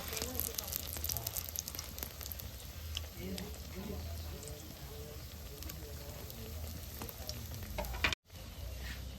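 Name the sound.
chhana jilapi frying in lightly heated oil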